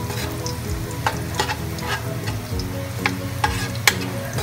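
Ingredients frying in a pan until browned for pancit canton, a steady close sizzle broken by several sharp crackles and pops, with no talking.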